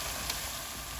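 Gongura chilli paste, a blend of green chilies and sautéed gongura leaves, hits a hot pan for a Gongura Pachadi and gives off a steady, close, moderately loud sizzle that holds evenly across one second with no talking.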